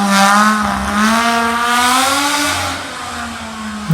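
A six-cylinder engine revs hard through a concrete exhaust fitted with a wire pipe, a loud, steady, buzzy roar whose pitch climbs slightly and falls back over a few seconds, with no talking.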